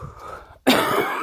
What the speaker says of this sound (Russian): Кашлю, извините.